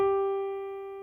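A single sustained musical tone at the pitch G, steady and clear with soft overtones, fading slightly over about a second, no voices.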